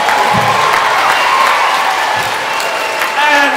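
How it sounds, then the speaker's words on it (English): A group of children at a classroom music concert claps together in a continuous wash of applause, with excited voices and shouts mixed into the clapping the whole way through. "Give yourselves a round of applause."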